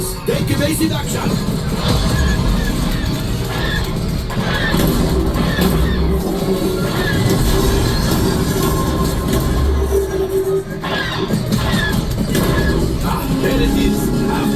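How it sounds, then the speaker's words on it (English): Rumbling train effects blend with loud blasts and roaring motion sounds on the Millennium Falcon: Smugglers Run ride at Galaxy's Edge, Hollywood Studios, continuous and dense throughout, with crowd voices mixed in. "There's the train."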